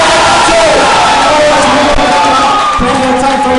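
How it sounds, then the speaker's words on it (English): A Malaysian crowd at a Counter-Strike Online esports tournament roars and cheers continuously, loud and dense throughout. "The Malaysian crowd goes wild"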